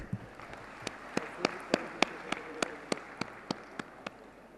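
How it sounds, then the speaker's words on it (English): A small audience claps in slow, spaced single claps, about a dozen sharp hits over a quiet hum, sparse rather than a full ovation. "Please welcome him with a thundering round of applause."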